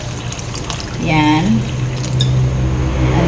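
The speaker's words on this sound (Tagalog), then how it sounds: "So mag-add ta og tubig." Water poured into a pot of simmering pork stew, a short rising fill splash in the middle, under a voice and a steady background hum.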